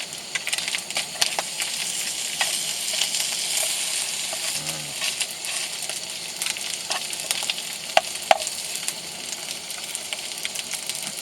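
Tuna frying in a pan with tomato added, giving a constant dense sizzle and crackle, close and steady, with a few sharp pops and stirring scrapes.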